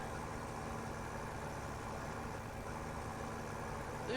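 A tractor engine runs at a steady idle, a constant low rumble with a broad mechanical hiss, unchanging throughout and heard from nearby.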